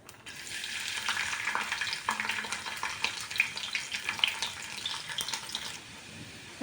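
Chopped peeled garlic and cumin seeds sizzle and fry steadily in hot oil for a vegetable dish, a close, continuous crackle with sharper pops and the occasional stir, no voices.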